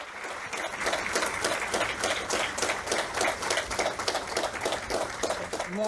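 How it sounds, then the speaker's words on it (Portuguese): A congregation at a Bible study gathering in Tampa, Florida gives a warm, sustained round of applause to welcome someone speaker, steady crowded clapping filling the room for several seconds. "os convido agora que a recebamos com um forte aplauso"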